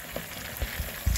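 Food simmering in red wine in a pan, a soft steady sizzle with a few low bubbling pops rising near the end, close and fairly quiet, with no one talking.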